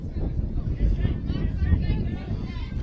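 Wind gusts across an outdoor field during a women's touch rugby final, a constant low rumbling buffet on the microphone that continues under a commentator's voice.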